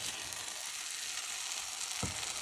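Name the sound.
choux pastry dough cooking and drying in a pan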